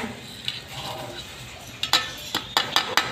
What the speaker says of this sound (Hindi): देखिए सिलवट्टा में मसाला पीसे जा रहे